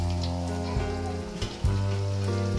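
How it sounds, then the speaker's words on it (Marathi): Sabudana vada frying in hot oil gives a close, steady crackling sizzle, with a few soft clunks as the pieces are moved in the pan and no talk. "आता आपण असं थोडंसं लाल होईपर्यंत त्याला तळून घेऊया."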